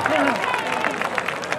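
Concert audience applause at an outdoor Baekje Cultural Festival show, a crowd clapping under a babble of voices and cheers with some speech on top.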